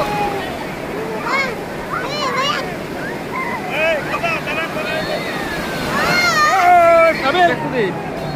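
Breaking waves on the sand at Cox's Bazar beach keep up a continuous roaring wash, growing louder toward the end, with wind buffeting and several voices chatting and calling over the surf.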